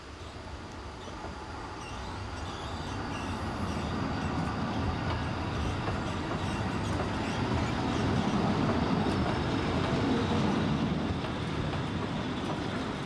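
Waldenburger Bahn narrow-gauge train running on its small-gauge line, a steady rumbling roll of wheels and cars that swells slightly and holds loud and close throughout.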